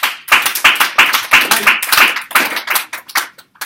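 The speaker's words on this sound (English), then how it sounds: "I need to applaud her again" Students in a classroom clap for a classmate, a close, lively burst of uneven hand claps that tapers off near the end.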